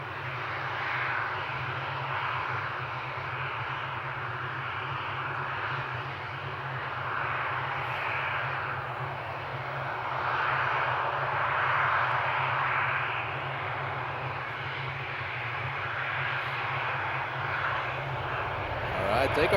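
A fixed-wing airliner roars continuously during takeoff at Amsterdam Schiphol, its engine noise distant to moderate and swelling slightly midway, with a person speaking intermittently over it.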